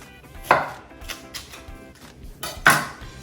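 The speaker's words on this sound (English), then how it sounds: "you're gonna cut off this pole on the end." A knife chops off the fuzzy root end of an onion on a cutting board, two sharp close cuts about two seconds apart with light handling noise between, no talking.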